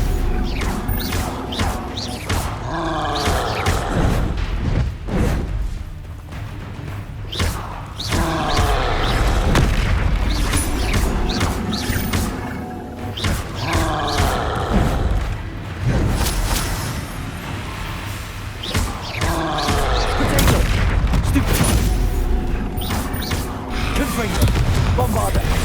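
Repeated explosive booms from the Bombarda spell in Hogwarts Legacy, heavy crashing blasts that recur every few seconds over a busy combat scene, with a voice speaking between them.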